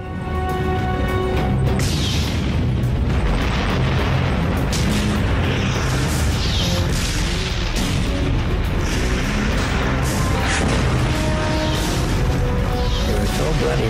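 Tank battle in Normandy, with repeated heavy booms and crashing blasts rolling across a dense, continuous din while a voice speaks over it.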